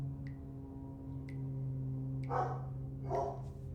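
A dog barks two short times at a distance, faint against a steady low hum, with a few small ticks earlier.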